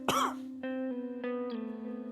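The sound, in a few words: coughing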